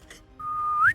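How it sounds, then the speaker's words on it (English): A person whistles a single sustained tone that holds steady, then slides upward before cutting off, close and clear against a quiet background. "And then he whistles"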